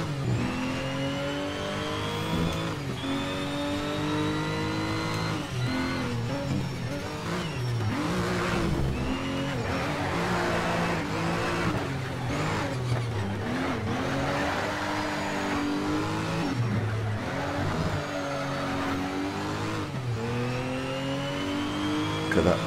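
A turbocharged race car engine in the Need for Speed Shift racing game revs and shifts continuously through gear changes, with rising and falling pitch sweeps and brief tire squeal, loud and up close throughout.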